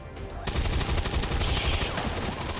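Rapid bursts of automatic gunfire from the XCOM 2 video game start abruptly after a brief pause and hammer on loud and dense, with a heavy low-end thump under each shot.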